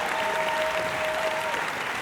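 Audience applause fills Baxter Concert Hall for a university jazz choir, a steady, dense wash of clapping from many hands throughout.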